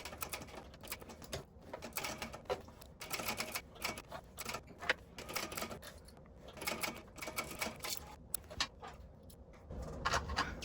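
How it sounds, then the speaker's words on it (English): A sewing machine stitches a 1/8-inch seam to close a bag, a rapid continuous mechanical clatter that runs almost unbroken at close range, with brief pauses and changes in speed. "Stitch it closed with 1/8 of an inch seam allowance."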